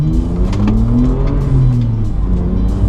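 BMW E90 sedan with a sprint booster, set to maximum sport mode, pulls from a rolling start in first gear. Close engine and road noise rises in a steady climbing growl throughout.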